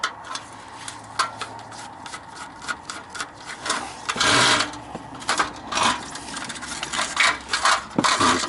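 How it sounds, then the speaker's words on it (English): Small metal screw being unscrewed from a fluorescent light fixture ballast, giving a run of close, fast ratcheting clicks and scraping metal taps, with louder bursts near the middle. "just remove this screw."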